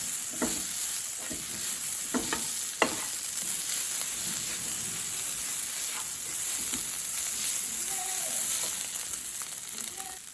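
Egg kottu frying in a pan, a steady close sizzle with irregular clatter and scraping of the spatula against the metal, moderately loud and without speech.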